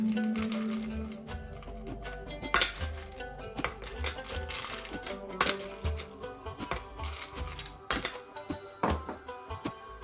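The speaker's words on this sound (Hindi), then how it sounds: "सबसे पहले मैं ब्लेंडर लूँगी, कुछ आइस क्यूब डाल दूँगी" Ice cubes drop into a kitchen blender jar, making a series of hard clinks and rattling clatters at irregular intervals, close and fairly crisp.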